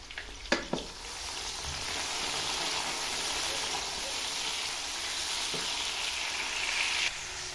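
Two medium-sized tomatoes hit hot oil in a pan for a potato and capsicum curry. A couple of sharp clinks are followed by a loud, continuous sizzle and crackle with occasional stirring scrapes.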